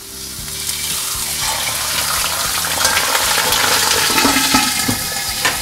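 Tilapia fish sliding into hot oil in a wok over high heat, giving a loud, steady crackling sizzle throughout with some bubbling near the end.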